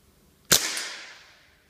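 A Crosman 2240 CO2 air pistol fires a pellet: one sharp, close pop that rings briefly and fades over about a second in otherwise quiet surroundings.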